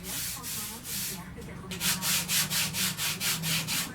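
A hand rubs back and forth over a fibreglass rudder surface, a rough scratchy hiss that begins soft and irregular, then settles into about eight steady, louder, rhythmic strokes, close up with no talking.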